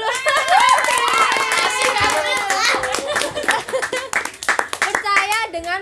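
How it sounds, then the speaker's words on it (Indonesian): Audience clapping during an informal talk show segment, partly buried under loud overlapping voices and tuneful vocalizing, with sharp hand-clap bursts scattered throughout. "kita tepuk tangan dulu."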